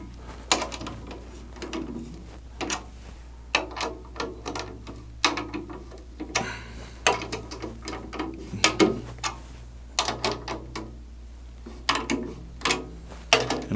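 A drum key turns the tension rods of a Tama LST148 14 by 8 inch metal-shell snare drum, giving soft, irregular ratcheting clicks close by over a low hum.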